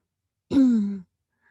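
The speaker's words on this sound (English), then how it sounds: "Listen to the sound and feel the texture of your breath." During a slow floor yoga practice, a single voiced exhale sighs out for about half a second, close and clear, falling in pitch before stopping, with silence around it.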